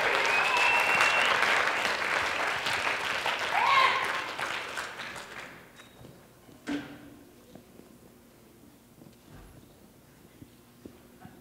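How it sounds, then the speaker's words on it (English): Audience at a college Mock Rock show applauds the returning judges, dense clapping and cheering that is loud for about five seconds, then thins out into scattered claps and quiet room noise. "Let's give a round of applause to the judges"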